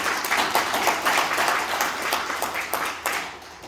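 An audience at an Yi Sun-sin academic seminar in Asan bursts into warm, sustained applause, many hands clapping densely and fairly close for several seconds before it starts to fade.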